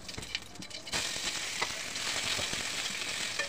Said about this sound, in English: Then add a little more oil to the pan and add cumin seeds.